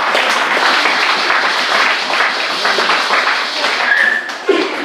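A church congregation claps and cheers in sustained, dense applause to acclaim Jesus, with the clapping fading slightly near the end.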